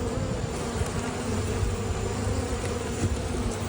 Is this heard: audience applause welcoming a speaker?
no